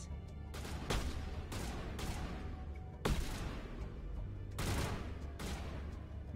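Video game gunfire from Mass Effect Legendary Edition rattles in quick bursts and single sharp shots, fairly quiet overall, against a steady low background rumble.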